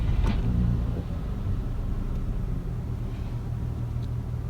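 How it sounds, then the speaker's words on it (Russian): An Audi 2.6 ABC engine fitted with a 2.8 AAH intake manifold turns over, then settles into a steady, low idling rumble that stays even throughout. "Запускаем автомобиль."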